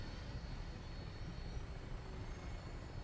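An aircraft taking off in the video game Fallout 4 roars with a steady, loud, dense engine rumble that holds unbroken for the whole stretch, no voices.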